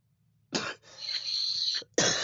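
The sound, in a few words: cough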